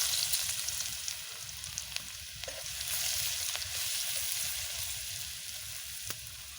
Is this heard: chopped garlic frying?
yes